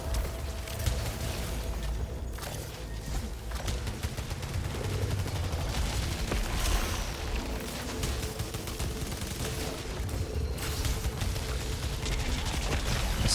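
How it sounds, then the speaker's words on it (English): Continuous weapon fire rattles through a dense, busy soundscape in Returnal, a steady stream of rapid shots layered with explosions and mechanical effects at a constant loud level. "the longer you hold down the trigger, the faster you fire the weapon"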